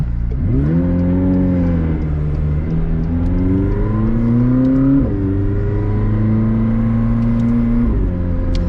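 A 2021 McLaren 765LT in comfort mode accelerates hard on a public road, its engine note climbing loudly through the gears with brief dips at each shift, close and continuous.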